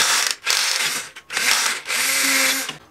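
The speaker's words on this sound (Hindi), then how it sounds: "इस साइड पे और दूसरी साइड पे मैं सुराख कर लेता हूँ ड्रिल से" Electric drill boring holes through a metal strip, three bursts of loud high-pitched whine separated by short pauses, close by, no talking.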